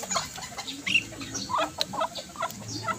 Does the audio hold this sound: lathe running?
no